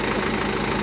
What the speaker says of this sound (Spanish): Se le oye un ruido extraño en la parte interna del sistema de la transmisión, de la tracción.